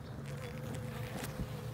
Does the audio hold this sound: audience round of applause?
no